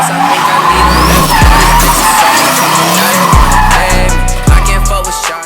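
A Lexus IS350 drifts in an abandoned lot, its tires squealing and skidding loudly in repeated bursts as the engine revs rise and drop, with music playing throughout.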